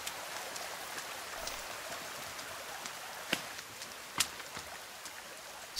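Rain patters steadily in The Forest video game, a continuous even hiss broken by a couple of sharper drop impacts.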